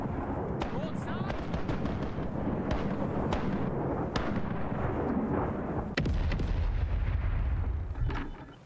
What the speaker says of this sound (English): Commence firing. Broadside.